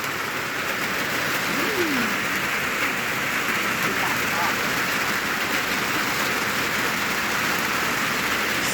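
Steady rain falls in a Thai rural setting around midday, a dense continuous hiss with no breaks and some faint background sounds mixed in, close and fairly loud throughout.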